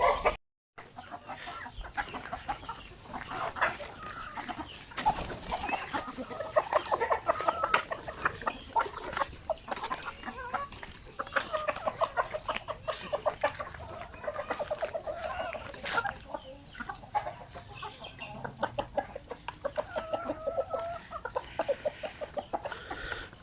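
Week-old Basilan and Zampen chicks peeping and chirping continuously, a busy chorus of close, rapid high calls with occasional clucks from other fowl nearby.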